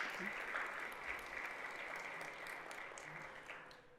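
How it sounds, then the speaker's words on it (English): An audience at a community arts forum gives a steady round of applause for partners and sponsors, a dense, continuous wash of clapping that holds evenly and tapers slightly toward the end. "let's give all of our partners and sponsors a round of applause"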